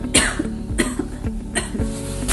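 A person coughs repeatedly, about four sharp bursts in quick succession, each ending with a short throat-clearing rasp, heard close and alone without speech.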